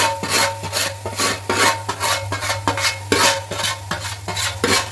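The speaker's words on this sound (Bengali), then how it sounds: "এবার সুজিটা আলুটার সাথে নাড়ানো হবে।" Semolina being stirred with fried potatoes in a pan makes rhythmic, close scraping and rasping strokes, about two per second, over a low hum.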